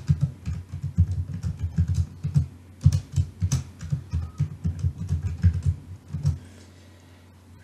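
Rapid clicking keystrokes on a computer keyboard as a password is entered, a steady run of close, crisp taps for about six seconds, then silence.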